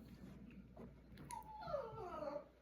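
A pet dog named Oakley whines softly in the background of a quiet room, with a thin, wavering high whimper that rises and falls for about a second, faint and with no voices.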